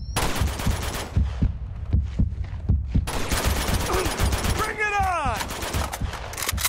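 Sniper rifle fire and rapid gunshots in an Uncharted 2 siege battle, a string of sharp cracks at an uneven pace, loud and close, with a swooping whistle-like effect partway through.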